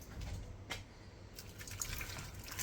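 Just-boiled water pours from a kettle into a pan, a brief, quiet splashing trickle heard close by with no talking.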